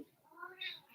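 A house cat gives a short, faint meow, rising and thin, lasting about a second against quiet background.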